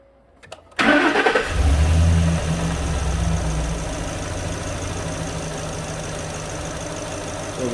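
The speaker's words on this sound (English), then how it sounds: "I'm going to start the engine and see if we have any kind of vacuum there." A 2011 Ford F350 with the 6.2 engine, which has an intermittent stall, cranks briefly and catches, then settles into a steady idle, close and loud, with no talk.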